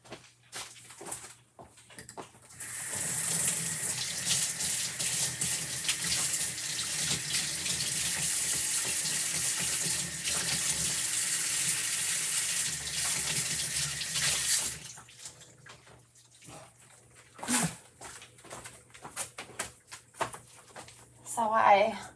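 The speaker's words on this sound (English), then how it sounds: "So I'm just going to wash my hands and I'm going to wash it off that screen" A tap runs steadily into a sink for about twelve seconds during hand washing, a close, even splashing rush that stops abruptly, followed by a few soft knocks and handling sounds.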